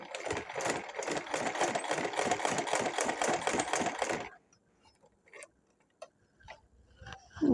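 A sewing machine stitches a school dress collar in a fast, even run of close mechanical ticks for about four seconds, then stops, leaving only faint scattered handling sounds.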